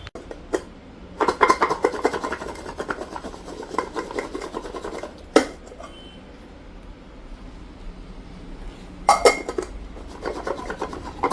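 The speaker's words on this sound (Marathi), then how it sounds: "आता मस्त हलवायचं ते" Rasping, scraping strokes of stirring a mixture of wild forest berries (karvand) outdoors in the Konkan, coming in bursts with sharp clacks between quieter stretches.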